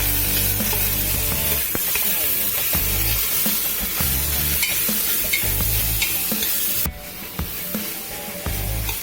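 Sliced onions and green chilies sizzle and fry steadily in a pan with repeated spatula stirring and scraping, loud and close, for a beef curry; the frying noise continues throughout with no talking.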